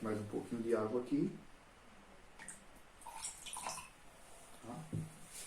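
Water is poured into a glass beaker holding ice, a soft splashing trickle heard beneath a person speaking.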